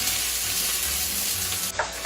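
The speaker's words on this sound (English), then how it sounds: "My pot is already hot, so I'm gonna put an onion." Onion frying in olive oil in a hot pot, giving a steady, dense sizzle throughout with a brief stir or clink near the end.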